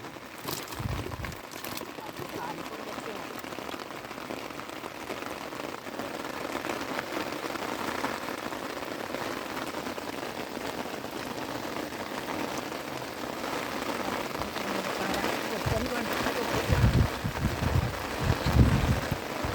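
Steady rain pelts down on a fishing outing, a dense continuous hiss of drops striking nearby surfaces that swells slightly louder toward the end, with a few heavier close patters.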